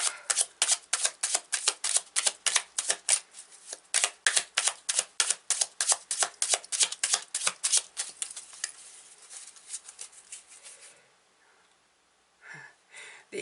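Tarot cards are handled and shuffled from a deck in a quiet room, a fast, regular train of crisp riffling slaps that slows and stops, followed by a few softer card movements.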